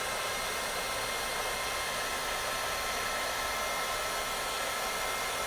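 A heat tool blows continuously at close range while heat-setting gold embossing powder, a steady, loud, even hiss with no pauses or changes.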